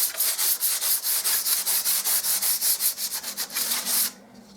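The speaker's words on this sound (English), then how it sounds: "Now some worn 120 grade sandpaper. I can remove this screw and just sand this down." Hand sanding of wall filler with worn 120 grit sandpaper: rapid, steady back-and-forth rasping strokes, close and loud, stopping abruptly near the end.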